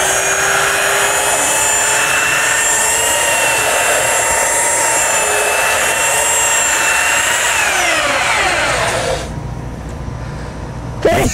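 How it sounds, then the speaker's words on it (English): A power sander smooths nicks and scratches from a wooden board for a patio bar, a loud steady whine that winds down and stops near the end, leaving quiet. "Now we're just sanding down all the nicks and scratches."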